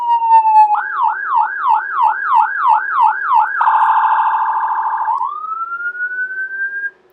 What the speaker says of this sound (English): your brain determined that the noise was in fact sirens